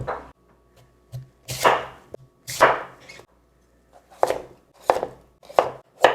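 A knife slicing radish thinly on a cutting board for Korean water kimchi (nabak kimchi), in a few separate bursts of crisp, close chopping strokes with short pauses between them.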